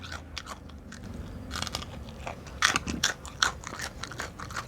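Fresh raw okra bitten and chewed up close, giving a string of crisp crunches and wet chewing sounds over soft background noise, with no talking.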